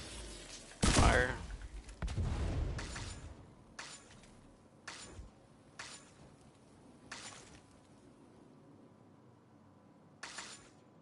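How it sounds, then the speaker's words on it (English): Gunfire in the video game Division 2: a loud burst of rapid shots opens, followed by a string of sharp, evenly spaced single shots with gaps between them, close and clear, no talking. "I had to shoot all them bullets"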